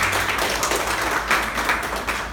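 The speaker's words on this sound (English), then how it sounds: "Applause for yourself." An audience applauds at a talk on the history of hijab: dense, steady clapping from many hands, fairly close and continuous with small swells throughout.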